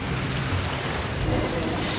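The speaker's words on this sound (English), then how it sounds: "I'm used to the rain, but you should probably use an umbrella." Steady, even rain falls throughout in Genshin Impact, a constant close wash of hiss with a voice speaking over it.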